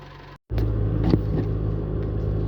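A car stuck in loose desert sand revs hard to break free, a steady loud engine roar with a brief dropout near the start before the throttle comes back in and holds.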